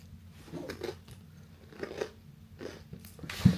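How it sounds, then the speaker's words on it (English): A thin wafer biscuit with a semi-dried apple slice in the center is bitten and chewed up close, giving soft crunches and chewing sounds in a few short bursts with brief pauses. "So there's like a really thin wafer biscuit on the outside and a very thinly semi-dried piece of apple in the center."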